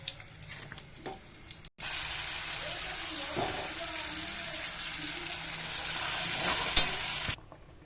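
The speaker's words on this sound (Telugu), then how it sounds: "ఇప్పుడు తాలింపు చేస్తున్నాను" Tempering spices for dal fry in hot oil on a home stove, giving a loud, steady sizzle with some stirring that lasts several seconds before cutting off, close by.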